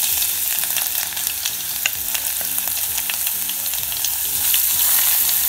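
Chopped ginger frying in hot oil with popped mustard seeds, a steady close sizzle with small crackles and pops throughout, no talking.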